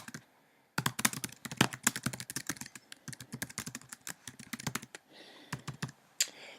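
Close, brisk typing on a computer keyboard, bursts of rapid clicks with short pauses, alone without talk.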